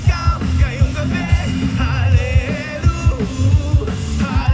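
Concert crowd at a Filipino festival show in Dublin shouting and yelling loudly over pounding live music with a steady thumping beat, voices swelling in bursts throughout.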